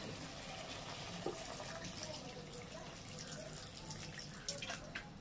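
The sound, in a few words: water poured into cooking pan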